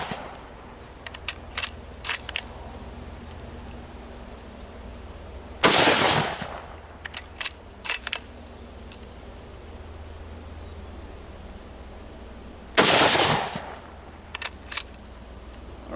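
Two loud, sharp MAS 36 rifle shots ring out several seconds apart at targets on a dirt berm, each followed by a brief echoing tail, with small distant metallic clinks between.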